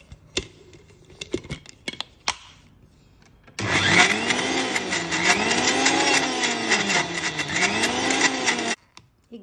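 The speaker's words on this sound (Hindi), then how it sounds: "इसे पल्स पे ही ब्लेंड करते रहना है।" Electric blender pulsing coffee to a froth: a few soft kitchen clicks, then about five seconds of loud, whining motor with a wobbling pitch before it cuts off abruptly, close and without talk.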